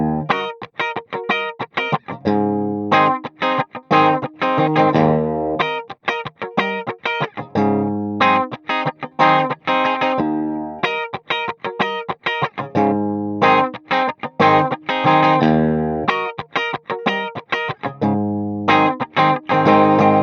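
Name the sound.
electric guitar through Valeton GP 100 Fender Tweed Deluxe amp model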